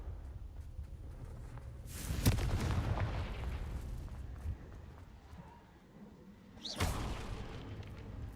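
A Confringo fire spell from Hogwarts Legacy bursts in two heavy booms a few seconds apart, each a sharp crack swelling into a rumbling blast over steady low background noise.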